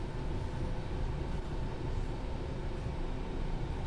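An RHTT rail head treatment train climbs uphill on the London Commuter route in Train Sim World 3, a steady, dense rumbling drone with no pauses and no voices.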